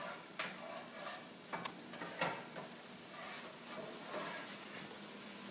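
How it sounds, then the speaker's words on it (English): Garlic sizzling in olive oil in a pan, a faint, steady crackle and fizz with a few soft clicks and stirring taps, heard close and alone. "Already you can hear it sizzling in here."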